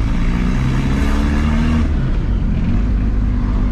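Turbocharged Volkswagen Gol engine and exhaust in heavy traffic, a loud, steady low rumble with a slight rise in revs, continuous throughout with no talking.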